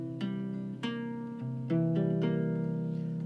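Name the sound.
guitar playing C dominant 7 chord notes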